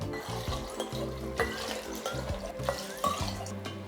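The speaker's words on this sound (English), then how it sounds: "then we will cover it with 4 cups of water and it should be covered" Water poured from a container over chopped beetroots in a jar for beet kvass, a steady close splashing and trickling with a few small clinks, no talk.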